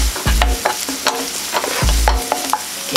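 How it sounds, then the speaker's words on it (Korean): Green onions stir-fried in oil over low heat for kimchi fried rice, with close, loud spatula scrapes and knocks repeating every half second or so over a light sizzle, no talking. "약한 불로 파를 볶아주세요. 파기름 나도록 먼저 볶아주겠습니다."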